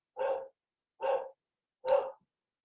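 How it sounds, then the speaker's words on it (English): A dog barks three times in a slow, evenly spaced series, each bark full and clear, with silence between and no voices over them. "And you may hear my dog in the background rooting you on, barking, barking, barking,"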